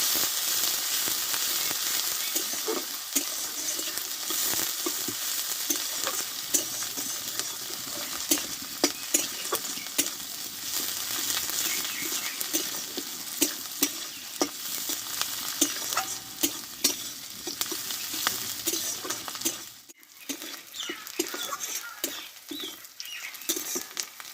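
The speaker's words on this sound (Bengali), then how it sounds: "পেঁয়াজটা কিন্তু ভালোভাবে কষিয়ে নিয়েছি" Chopped onions fry in a pan with a continuous crackling sizzle, overlaid by frequent scraping and tapping of a spatula as they are stirred, the frying dropping off sharply near the end.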